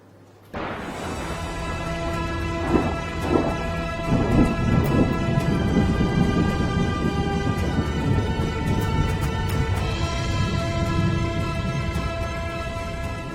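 Heavy rain pours down steadily in Idar, Sabarkantha, North Gujarat, with a low rumble of thunder rolling beneath it, dense and continuous for the whole stretch.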